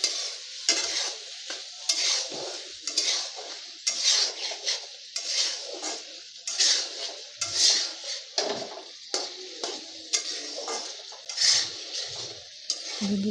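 A spoon scrapes and clatters steadily against a pan as a cauliflower and egg mixture with ginger-garlic paste, salt and green chillies is stirred, with a soft sizzle of frying underneath; the sound is close and continuous, with no talking.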